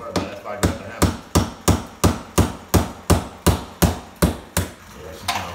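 A hammer strikes repeatedly at a steady rhythm, about a dozen sharp, loud blows close by in an old basement workshop, with no talking.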